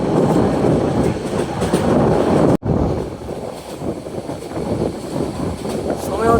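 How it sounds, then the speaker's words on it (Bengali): From on board, the Cox's Bazar Express rumbles loudly and continuously as it speeds through Akhaura station at night. A brief sharp dropout comes partway through, and a few faint tonal squeals rise near the end. "আমাদের ট্রেনটি এখন আখাউড়া রেলওয়ে স্টেশন দুরন্ত গতিতে থ্রু পাস করে যাচ্ছে"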